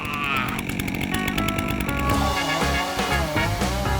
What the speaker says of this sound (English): I use that big chainsaw over there to cut the wood up.